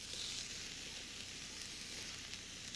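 Sliced beef short rib sizzles in a frying pan on a tabletop burner, cooking in its own fat without added oil; a steady, bright frying hiss runs at low level throughout, with no talking.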